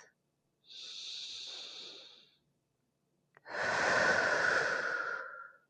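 Two slow, deep breaths during a side-reaching stretch in a strength and stability exercise session: a soft, airy inhale followed after a pause by a longer, louder, rushing exhale, close to the listener with no talking.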